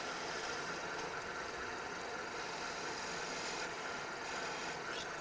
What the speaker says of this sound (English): So my spindle roughing gouge can get a lot of the wood out of the way